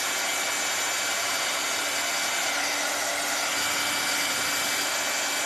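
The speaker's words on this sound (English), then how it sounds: "I'm gonna hit this with a dryer." A hair dryer blows on paint with a steady, loud, close whooshing hum and a faint whine, running unchanged throughout with no speech.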